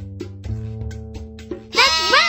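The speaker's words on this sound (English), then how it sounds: "That's right! It's a sheep!" A video game's sheep gives a single bleat near the end, loud and close with a wavering, nasal tone, after a stretch of melodic tones and chimes.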